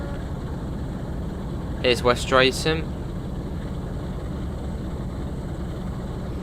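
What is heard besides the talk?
diesel train engine in Train Sim World 2 video game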